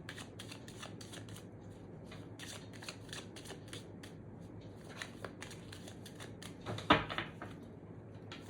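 Tarot cards are shuffled close up in quick, steady riffling flutters, with a brief sharper snap near the end.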